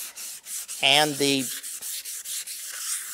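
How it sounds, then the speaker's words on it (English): Steady back-and-forth rasp of sandpaper working a tung oil and sawdust slurry into a wooden herringbone cutting board, close and rhythmic, with someone briefly speaking over the strokes. "And as I'm sanding it, I'm forcing those into the pores in the wood."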